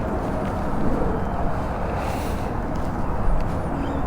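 Strong wind buffets a fishing boat on open water, a loud continuous roar of rushing air and microphone rumble with gusty swells throughout and no talking.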